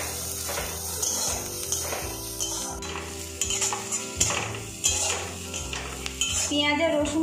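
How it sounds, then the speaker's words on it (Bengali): Chopped garlic and onion with a pinch of nigella seeds fry in a pan, a steady sizzle broken by repeated scraping and stirring strokes with metal clatter, close and fairly loud, with no voices. "এর মধ্যে আমি কুচনো রসুনগুলো দিয়ে দিলাম, আর পেঁয়াজ কাটা। এটা ভালো করে আমি ভাজবো।"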